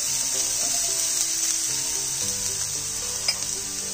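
Vegetables, carrots, capsicum and beans, frying in a pan for veg fried rice: a steady, loud hiss of sizzling oil throughout, with faint stirring clicks and a small scrape near the end.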